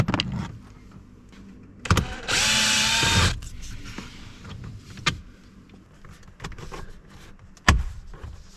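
A power drill whirs in a short burst of about a second while driving screws into a pickup truck dashboard, surrounded by clicks, knocks and handling noises.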